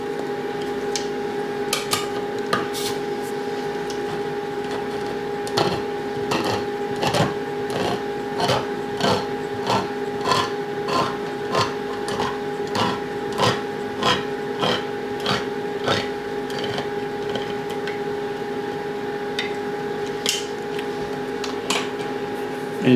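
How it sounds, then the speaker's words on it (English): Kitchen air fryer runs steadily while cooking, a constant fan hum with a mid-pitched whine, over which irregular light clatters and scraping knocks of food preparation sound nearby. "our air fryer does make a noise when it's cooking."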